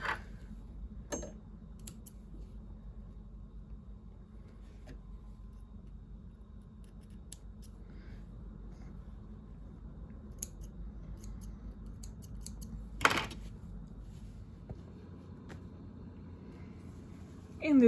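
Scissors trim thread ends on a finished fabric scrunchie, making a few sharp, quiet snips spread over a hushed room, one louder cut standing out near the end.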